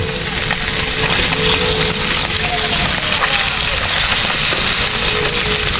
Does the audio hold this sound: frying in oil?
yes